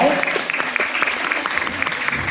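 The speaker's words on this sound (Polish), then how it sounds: "Jeszcze raz brawa dla Dawida Puchały, moi drodzy." Audience applause at a Polish cultural centre show honouring performer Dawid Puchała, a dense, steady wash of clapping across the whole moment with a voice briefly heard over it.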